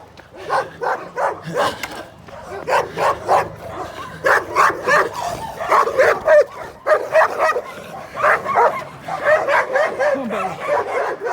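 Dogs bark repeatedly along a countryside trail in Peru, a busy run of sharp barks and yips from several animals, fairly close and continuous, with some whimpering mixed in.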